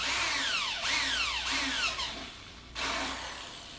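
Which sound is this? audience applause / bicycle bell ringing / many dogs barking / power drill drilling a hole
power drill drilling a hole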